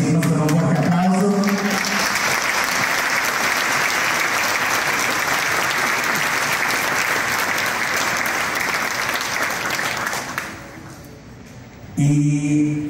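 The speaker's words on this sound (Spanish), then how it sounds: "te pido si la recibimos con un fuerte aplauso" Audience at an awards presentation giving a strong, loud round of applause that holds steadily for about ten seconds, then fades as a voice begins speaking near the end.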